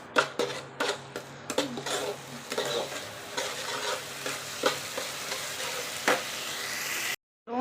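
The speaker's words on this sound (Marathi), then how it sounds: "त्याच्यामध्ये बारीक केलेली टमाट्याची पेस्ट टाकून घेऊ। एक 10 मिनिटं छान असे फ्राय करून घेऊ" Tomato paste frying in a pan, with a steady sizzle under repeated sharp scrapes and knocks of a spoon stirring it, irregular but frequent, close up, ending with a brief silence.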